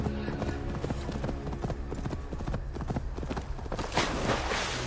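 Hooves clip-clop in a quick, steady rhythm as a horse moves in Assassin's Creed Valhalla, close and moderately loud, with voice-like sounds and a splash of water near the end.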